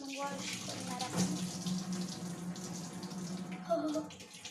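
Tap water runs steadily from a faucet for washing up, a continuous near splashing flow with a brief louder burst midway and again near the end.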